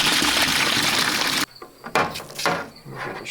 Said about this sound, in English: So we're gonna get our water, get this tank filled